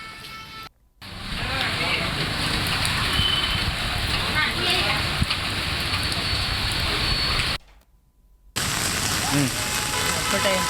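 Heavy rain pours down in Hosapete, a dense, continuous hiss of drops hitting surfaces, broken by two short silent gaps, with voices faintly under it.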